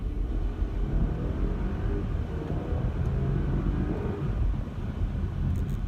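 A 2015 Audi A7 with a supercharged 3.0 V6 accelerates, heard from inside the cabin as a steady low engine rumble mixed with road and wind noise, even in level and without voices.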